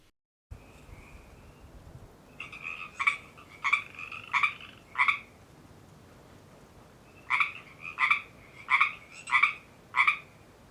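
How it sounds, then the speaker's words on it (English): Close frog croaks in a garden habitat, two bursts of repeated calls, about five evenly spaced croaks each, separated by a short quiet pause. "watch this little guy croak for love"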